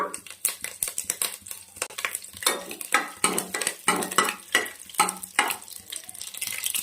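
Curry leaves and mustard seeds dropped into about three tablespoons of hot oil for sprouted-bean sambar, crackling and popping in rapid irregular bursts, loud and close, with no voices.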